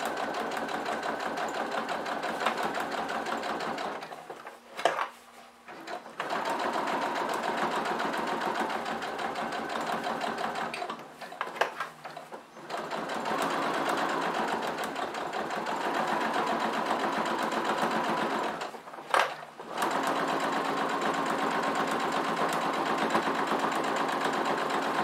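A sewing machine stitching a fabric roll-up pouch, running in a steady mechanical whir in long bursts, stopping briefly three times before starting again, close and loud.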